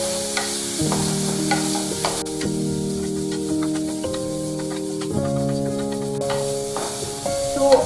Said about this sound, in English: I'm going to be stirring all of it till it cooks well.